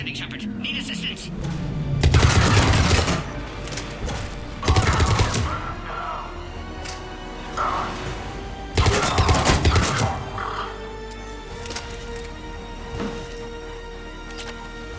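Bursts of automatic gunfire in a Mass Effect 3 combat scene, several loud dense volleys separated by pauses, with voices and other game sound effects underneath.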